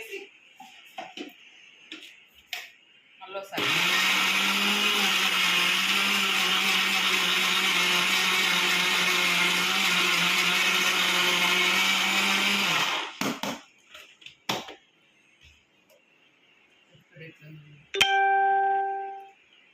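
A kitchen mixer grinder whirs loudly and steadily for about nine seconds, grinding curry leaves, tamarind and garlic, then stops abruptly. Quiet clinks and handling noises come before and after, and a short bright tone sounds near the end.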